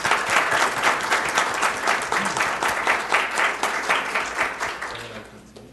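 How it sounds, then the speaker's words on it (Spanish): An audience at a university economics talk at the Politécnico Grancolombiano applauds a speaker with loud, sustained clapping that tapers off at the end. "Por favor, démosle un aplauso"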